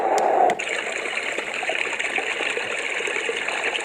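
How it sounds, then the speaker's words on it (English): A Liaboe white noise sleep machine plays its brook setting, a steady, soft trickling stream of water that runs evenly after a brief louder sound at the start, with no talking. "Let's try the brook."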